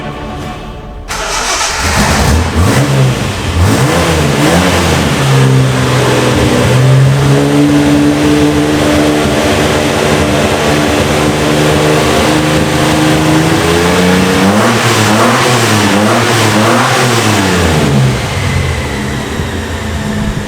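A Reliant Scimitar engine fitted with cherry bomb exhausts starts up and revs repeatedly, a loud throaty exhaust rising and falling in pitch for about twenty seconds, with no talking.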